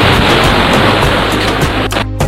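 A loud, continuous broadband roar of surf fills the whole clip, like waves breaking close by on a beach, at Balangan Beach, Bali.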